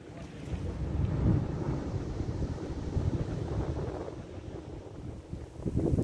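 Coastal wind gusts roar steadily against the microphone near the Banc d'Arguin, a dense low rumble that swells and eases over several seconds with no voices.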